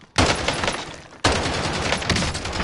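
Bursts of gunfire in a shooter video game, two sustained loud volleys with a brief gap between them, dense and close, with no talking.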